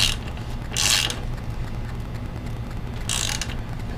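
A ratchet snugs the axle nut on a Yamaha XT-250 motorcycle, giving three short bursts of rapid clicking close by, separated by pauses.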